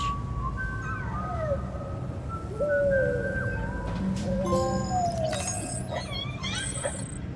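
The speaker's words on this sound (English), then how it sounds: "We're whistling." A character in the video game Death Stranding whistles a series of short, sliding tones that rise and fall, a quiet melodic whistle over soft background ambience.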